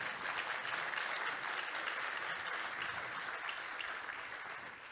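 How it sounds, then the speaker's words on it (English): Audience applause fills a hall at a charity transparency and governance awards ceremony, dense and sustained clapping from a large crowd, loud and even from start to finish before gradually tapering slightly. "could you please give yourselves a very, very big round of applause?"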